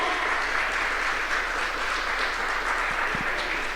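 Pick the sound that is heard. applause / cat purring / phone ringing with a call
applause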